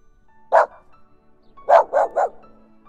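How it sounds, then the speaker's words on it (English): A dog barks in a children's picture-book reading, one sharp bark followed after a pause by three quick barks in a row, close and clear with no talking over them. "Barked the dog."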